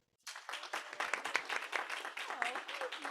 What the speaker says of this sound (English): please join me in a hearty round of applause